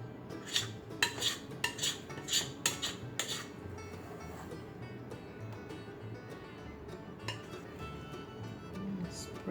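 Spoon or spatula spreading corn muffin batter over a cowboy cornbread casserole, a run of quick clinking scrapes against the dish early on, then quieter intermittent taps over a steady low background.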